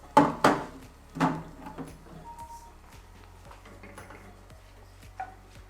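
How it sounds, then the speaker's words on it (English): Butter and oil being stirred in a pan for mushroom and sage risotto: a few sharp metallic clinks of the utensil against the pan up front, then quieter, softer scraping and light taps. "You stir your butter and oil a little bit"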